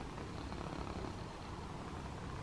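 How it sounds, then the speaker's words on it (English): A cat purrs softly and steadily up close in a quiet art studio, a low continuous rumble with no talking. "I've got a little purry visitor."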